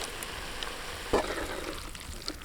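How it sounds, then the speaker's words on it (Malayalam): Tomatoes added to Kerala-style beef roast gravy frying in a pan, a steady soft sizzle with a brief louder hiss partway through, close and continuous, no talking. "കുറച്ച് തക്കാളി നമുക്ക് ഇട്ട് കൊടുക്കാം."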